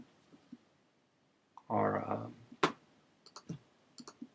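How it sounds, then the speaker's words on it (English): Mouse clicks on a computer while working in AutoCAD, a few short sharp clicks scattered through the clip, close and fairly faint, with a brief burst of other noise in the middle. "We're going to click OK"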